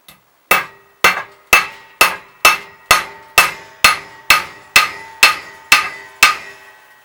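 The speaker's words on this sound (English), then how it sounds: "So here we go, let's hammer it in." A hammer drives a core plug into a classic Mini inlet manifold: about thirteen sharp metallic strikes at an even pace, each ringing briefly and close, with no talk.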